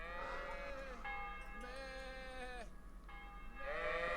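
Sheep bleating in the medieval game Kingdom Come: Deliverance, several drawn-out, wavering bleats overlapping one another over a steady ambient bed, fairly close and prominent.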